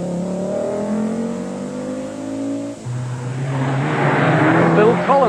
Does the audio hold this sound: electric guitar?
no